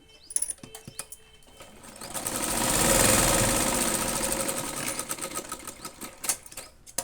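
Sewing machine stitching a hook strip onto a blouse, a steady mechanical whir that swells to its loudest mid-run and then tapers, with clicks and knocks at the start and end.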